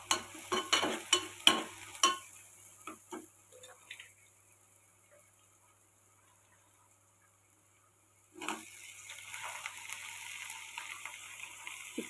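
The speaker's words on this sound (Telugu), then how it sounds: "చిక్కుడుకాయ టమాటా కూర అండి. కోడిగుడ్లు వేసి వండుతున్నాను." Broad bean and tomato curry with eggs cooks in a pan, with a run of quick scraping and clacking stirs, a near-silent pause, then a sudden rising sizzle of frying that continues steadily.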